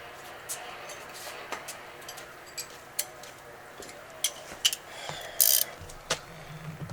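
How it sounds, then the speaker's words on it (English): A socket wrench with an extension ratchets on a bolt while a 2005 Jeep TJ's A/C line is being replaced, giving a run of close, irregular metallic clicks and ticks with one louder burst near the end. "Okay, definitely going to use an extension on this."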